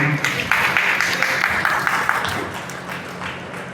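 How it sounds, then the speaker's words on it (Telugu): Dense clapping from a group after the ring exchange at an engagement ceremony, steady and fairly loud throughout, with a few voices mixed in underneath. "చప్పట్లు కొడదాం అందరము"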